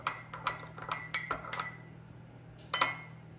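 A spoon clinks against a bowl while stirring cheddar and chive scone dough, a quick run of light, bright taps, then a pause and two more clinks, close and fairly quiet.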